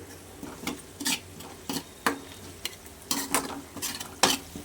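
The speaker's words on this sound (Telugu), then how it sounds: "ఆనియన్స్ పూర్తిగా గోల్డెన్ కలర్లో వేగిపోయాయి." Onions frying golden in a pan on low flame, with a soft steady sizzle broken by repeated scraping stirs of a spoon or spatula, irregular strokes close up and no talking.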